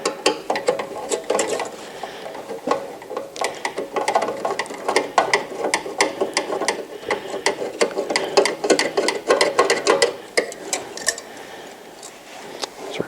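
A Phillips screwdriver takes screws out of the defrost thermostat on a Santa Fe Compact2 dehumidifier, giving a steady run of close, dense ratcheting clicks and scrapes.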